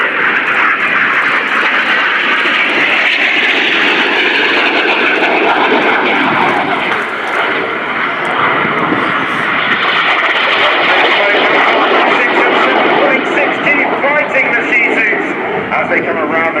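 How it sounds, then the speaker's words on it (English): RAF Red Arrows jets rolling through formation manoeuvres at an air show roar overhead in a loud, continuous engine wash that barely rises and falls, with a commentator speaking throughout. "They're about to do barrel rolls towards each other, then cross 3 times in a tight 360-degree turn"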